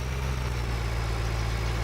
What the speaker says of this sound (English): I love how the engine revs go up as we go around that.